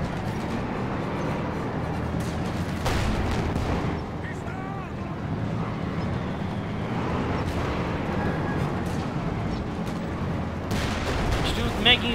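In a Company of Heroes 2 battle, scattered gunfire and distant artillery thuds rumble beneath a commentator's continuous speech.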